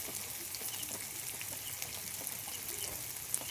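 Shredded cabbage, capsicum and green chili are stirred in a hot frying pan with a spatula, a steady close sizzle with light scraping and clatter, no talking.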